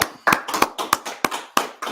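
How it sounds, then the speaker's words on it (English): Audience clapping at an ISUPK street gathering in Washington DC comes as a slow series of about eight separate sharp claps spaced roughly a quarter second apart, close and distinct against quiet gaps. "clap it up"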